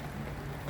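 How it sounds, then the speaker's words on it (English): Steady Florida rain falls on a garden, a continuous even hiss of drops with no pauses, moderate in level and not a heavy downpour. "it's been kind of a steady rain, not really a downpour"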